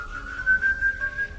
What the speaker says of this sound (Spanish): Y el silbido seguía y seguía.